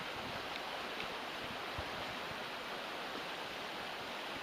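Continuous rushing water, broad and steady like a fast, high-flowing river, with no voices.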